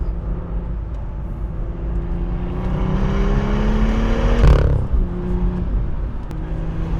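An original BMW M2 pulls hard through a gear, its engine note rising steadily over tire and road roar to a loud peak before a sudden drop at the shift, then settling back at lower revs.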